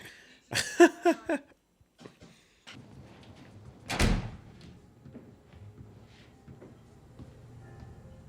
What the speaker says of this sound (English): Dude, you're knocking on his house.